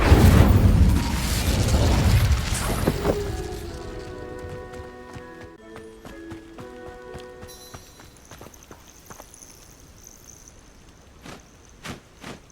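An Incendio fire spell cast in Hogwarts Legacy, a loud roaring whoosh of flame that fades over a few seconds into tonal chimes and scattered light footsteps and clicks.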